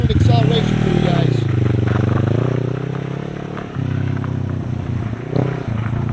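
A Kawasaki Ninja 650 fitted with an Akrapovic exhaust accelerates moderately, its engine note rising, dipping and rising again across the throttle changes, loud and close throughout.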